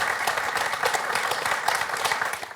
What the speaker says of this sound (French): je vois aussi vos petits-enfants, René, à chaque fois que vous marquez, qui vous applaudissent chaleureusement